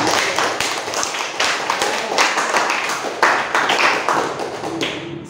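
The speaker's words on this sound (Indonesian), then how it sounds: "Tepuk tangan dong buat temannya." Classmates clapping for a group after their work is presented in class: a loud run of distinct, uneven hand claps, fairly close, with faint chatter underneath.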